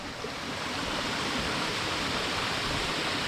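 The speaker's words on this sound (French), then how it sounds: "c'est la cascade là" Loud, continuous rushing roar of a waterfall on São Miguel island in the Azores, a dense broadband wash of falling water heard up close without pause and with no voices over it.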